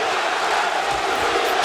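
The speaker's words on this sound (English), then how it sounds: "listen to this crowd" A boxing arena crowd at a Deontay Wilder versus Artur Szpilka heavyweight fight roars in a steady, dense wash of cheering and shouting that holds loud and constant throughout.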